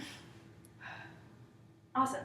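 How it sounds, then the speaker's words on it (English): A person breathing in through the nose and out through the mouth during a guided abdominal exercise, with a soft breath in the middle and a sharper, louder exhale at the end, close and over a low background hum. "you breathe in your nose and out your mouth"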